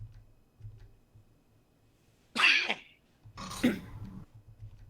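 Two sharp bursts sound close by, one person sneezing twice about a second apart, loud against a quiet room with faint background murmur.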